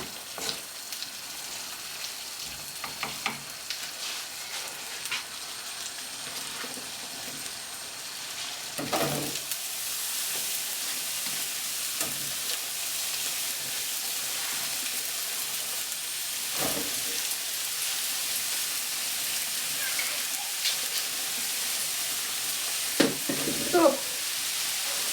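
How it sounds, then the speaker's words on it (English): Mushrooms fry in leftover fat in a pan, a steady hiss and sizzle that grows stronger, broken by occasional stirring scrapes and clatter, with a voice speaking now and then. "I'm going to cook the mushrooms in what's left of the fat there"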